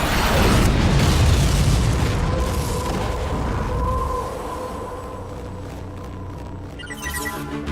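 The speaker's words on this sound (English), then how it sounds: "Incoming artillery!" Heavy artillery blasts rumble in a multiplayer strategy game, a dense roaring wall of explosions that slowly fades into a quieter mechanical tail.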